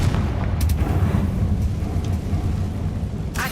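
Confringo spell in the Hogwarts Legacy video game, a sustained, loud, rumbling blast that fills the whole stretch with little variation and no voices over it.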